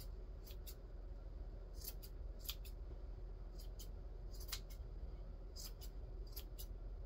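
Scissors snip repeatedly while trimming a yarn pom-pom, giving crisp, close clicks in quick bursts of two or three cuts against a quiet room.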